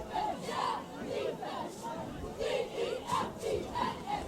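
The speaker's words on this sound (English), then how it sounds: "some noise coming from the crowd" A high school football crowd at a Triton versus Ipswich game roars and shouts in rising and falling waves of cheering and chatter, heard from a distance in the stands.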